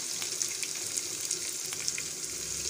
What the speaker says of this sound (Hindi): दूसरा जो है वो अच्छे से डीप फ्राई हो जाए